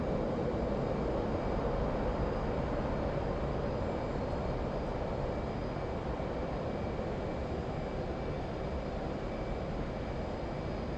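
A steady, loud roar from an F/A-18 jet's engines in the DCS flight simulator, a constant rushing drone that holds for about eleven seconds with no voices over it.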